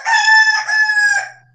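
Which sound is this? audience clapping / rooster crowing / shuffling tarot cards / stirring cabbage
rooster crowing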